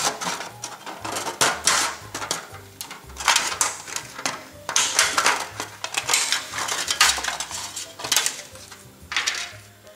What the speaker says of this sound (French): Donc je vais découper une deuxième bande comme ceci.